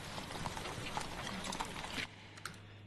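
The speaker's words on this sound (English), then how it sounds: "Got some horses mixed with just some commotion. These are called infantry and cavalry" Library recording of horses amid a cavalry and infantry crowd commotion, steady hoof clip-clop under busy walla that drops to a quieter background near the end.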